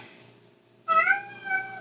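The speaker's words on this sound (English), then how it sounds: "My cat's crying." A house cat meows once, a clear, close, rising cry that comes after a quiet pause and then trails off.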